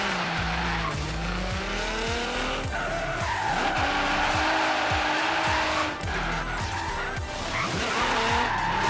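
A car in Forza Horizon 3 holds an e-brake drift, with loud, continuous tire squeal and skidding over a revving racing engine that rises and falls through the slide.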